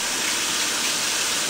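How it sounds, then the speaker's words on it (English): Warm water from a sink spray attachment rinsing beeswax in a colander makes a loud, constant broadband hiss that stays at the same level for the whole short clip, with no talking. "spray attachment with my sink to wash the wax"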